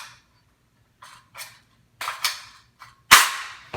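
A magazine loaded with dummy rounds is handled and seated into an AR-15 rifle, producing a series of short, sharp metallic clicks and clacks that build to a final firm snap, close and isolated.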